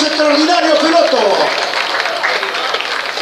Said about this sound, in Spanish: Aplauso para estos extraordinarios pilotos.